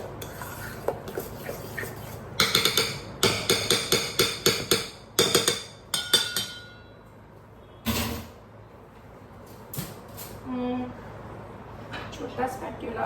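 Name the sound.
mixing banana bread batter with a spatula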